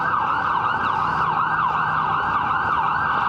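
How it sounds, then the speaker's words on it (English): An ambulance siren wails in a continuous, warbling sweep through a Baltimore city street, loud and steady throughout with faint traffic rumble underneath. "Hey, listen to that, a siren."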